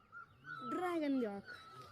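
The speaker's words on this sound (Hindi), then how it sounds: "ये जो आप आवाज़ सुन रहे हैं इस पक्षी का नाम है मिली और ये ऐसी बहुत खूबसूरत आवाज़ निकालती है।" A single bird's call rises and falls in a drawn-out, wavering tone lasting under a second, heard fairly close and quiet against a still outdoor background, with no talking.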